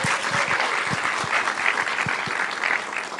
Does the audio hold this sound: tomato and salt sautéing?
no